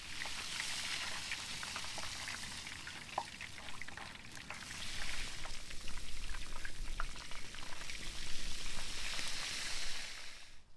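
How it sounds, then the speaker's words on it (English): Hot oil is poured over a huge leg of meat outdoors in a rural Azerbaijani village kitchen, a steady loud sizzling hiss that swells and crackles as the pour continues, with no talk. "We need to pour the meat with hot oil."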